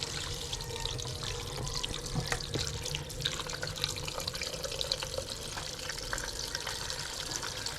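Tap water runs steadily into a small pressure cooker, a continuous close splashing and trickling stream for making bone broth, with no talk over it.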